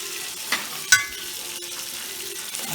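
Flour being stirred into melted butter in a pan for a roux, a soft scraping stir over a gentle sizzle, with a couple of brief utensil taps against the pan.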